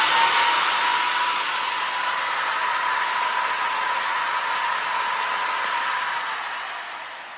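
A DeWalt biscuit joiner whines steadily at close range as it cuts into a piece of wood, a sustained high motor tone that holds for several seconds before tapering off as it winds down.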